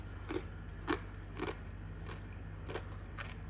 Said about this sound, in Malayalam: അപ്പൊ ഇത് ഭയങ്കര ക്രഞ്ചിയാണ് കേട്ടോ. കണ്ടോ, നല്ല ശബ്ദമൊക്കെ ഉണ്ട്.